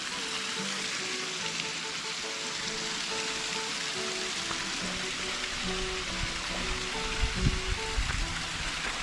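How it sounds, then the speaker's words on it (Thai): Samlan waterfall in Phanom Dong Rak wildlife sanctuary, Thailand, flows as a steady, dense rush of water that stays loud and even throughout, with faint tonal sounds above it and no talk. "น้ำตกสำลันครับ ช่วงหน้าน้ำมาเยอะๆก็ สวยน่าดูเหมือนกันครับ"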